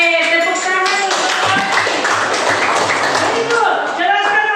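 A class of students claps hands together, a dense continuous patter of applause mixed with cheering voices, loud and close for a few seconds.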